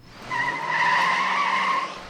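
Tires squeal loudly and steadily for about two seconds as a boyfriend's car speeds away from a driveway, a sustained skidding whine with no talking.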